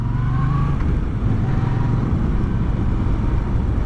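A Moto Guzzi V9 bobber motorcycle engine rumbles steadily and loudly up close, with a brief rising rev near the start and a continuous exhaust drone throughout.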